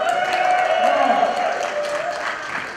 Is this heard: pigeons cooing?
no